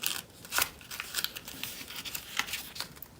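Paper being folded and creased for an origami cat gives soft, close crinkles and brisk rustling swipes in quick irregular bursts, faint and with no voice.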